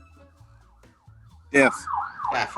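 A siren from a nearby fire station rises loudly in the second half, wailing and sweeping up and down after a stretch of quiet low rumble, with people talking faintly around it.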